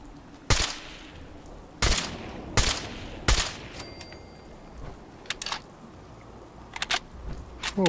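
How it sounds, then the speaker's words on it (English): Gunfire in the VR game Fallout 4 VR during a fight with a raider: a series of sharp, loud single shots at irregular intervals, some close together, with faint lighter clicks between them. "Shots"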